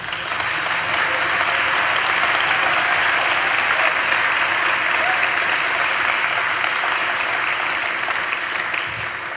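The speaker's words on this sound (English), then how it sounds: "I'd like to ask for a round of applause" An audience applauds at a poetry prize ceremony, a loud, dense and unbroken roar of clapping that holds steady before easing slightly at the end.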